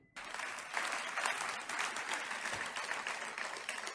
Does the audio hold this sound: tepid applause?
yes